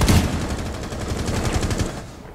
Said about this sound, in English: we're getting shot already.